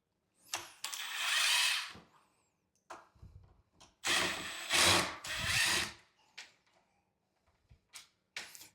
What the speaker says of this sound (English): those two screws there. I'm going to take them out.